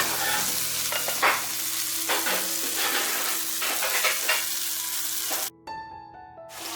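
Tomatoes cook in a pan for tomato soup with a steady sizzle and frying crackle, broken by several scraping stirs; near the end the sizzle briefly drops out, then returns.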